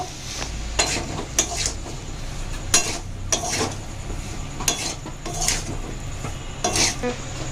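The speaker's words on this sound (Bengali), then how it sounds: "এবার আলুগুলো দিয়ে দেব যে আলুগুলো কেটে রেখেছিলাম সেদ্ধ করে ভালো করে মশলার মধ্যে কষিয়ে নেব" Boiled, cut potatoes are stirred and fried in spice masala for a potato curry, with a spatula scraping the pan in repeated strokes over a soft, constant sizzle.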